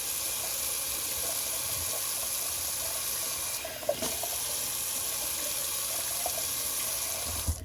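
Cold water runs steadily from a bathroom tap for a post-shave face rinse, a continuous close hiss and splash with a brief change in the flow partway through.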